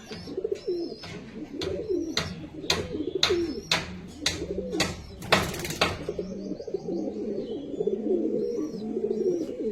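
A male Andha Fulshira pigeon coos in a steady run of low rolling phrases, close and fairly loud, with sharp clicks or taps early on and no talking.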